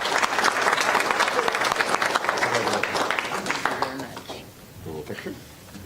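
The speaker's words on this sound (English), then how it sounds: "let's give Lori 25 years a round of applause" Applause for a staff member's 25 years of service at a municipal public works committee meeting: a dense, sustained round of clapping from a room of people that fades toward the end, with voices mixed in.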